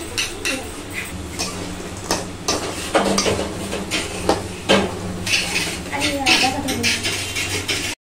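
Gathiya frying in oil for homemade chanachur, a steady bubbling sizzle under repeated clanks and scrapes of a utensil against the pan as the pieces are lifted out, with a voice heard faintly at times.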